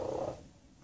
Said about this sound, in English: It makes him purr and shut his eyes.